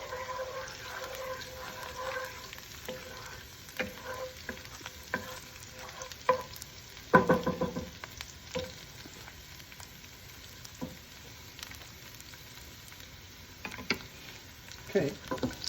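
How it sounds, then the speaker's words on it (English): Garlic frying in a pan gives a quiet, steady sizzle, broken by scattered scrapes and clicks as it is stirred, fairly soft and close. "You don't necessarily have to brown the garlic, you just have to make sure it's just cooked a little bit."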